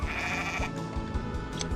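Sheep in the Harvest Moon video game bleating: a long sustained bleat, then shorter repeated bleats, close and clear with no talking.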